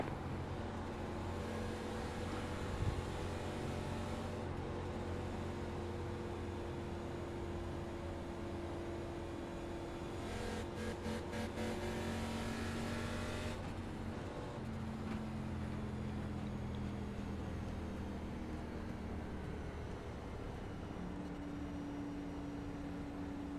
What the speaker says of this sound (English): Okay, burnout time.